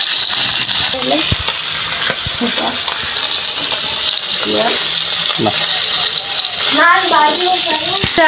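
Fish frying in a small amount of oil, a close steady sizzle with stirring and scraping in the pan, while people talk over it.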